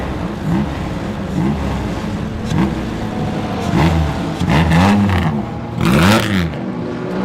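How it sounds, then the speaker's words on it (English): A 1927 Bentley racing car engine at a historic race meeting, a loud mid-pitched vintage engine note rising and falling through several revving swells as the car pulls away, close and alone. "I just wanted to listen to the engine note as that Bentley gets going again"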